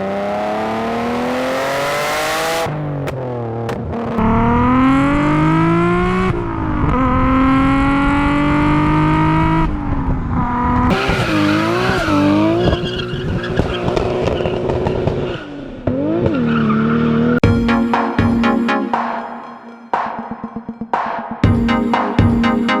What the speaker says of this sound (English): the RB26 is one of the best sounding engines to ever come out of Japan and an absolute joy to drive